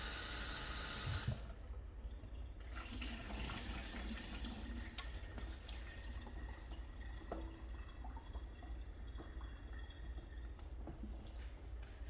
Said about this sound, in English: I have to keep stepping away to rinse the cabbage